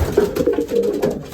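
Racing pigeons coo steadily in a loft, soft overlapping low throaty calls repeating without a break, close by and alone.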